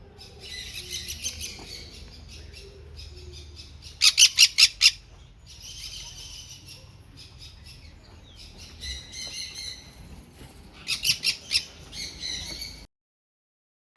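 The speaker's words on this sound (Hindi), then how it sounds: "ऐसे ही सारी चिड़ियों से बहुत ज़्यादा डिफरेंट आवाज़ लग रही थी" Many birds squawking and chirping in a netted aviary in Pelling, with repeated bursts of sharp calls over a steady low background hum, a quick run of loud squawks standing out near the middle and again toward the end.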